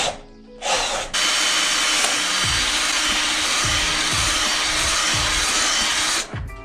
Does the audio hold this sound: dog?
no